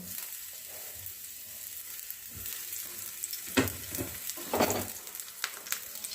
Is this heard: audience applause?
no